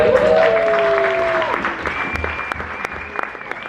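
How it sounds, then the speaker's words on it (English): An audience at a talk on perseverance and gratitude breaks into a round of applause, dense clapping that runs the whole stretch and gently thins toward the end, with a sustained tone sounding over it at first. "So give yourselves a round of applause"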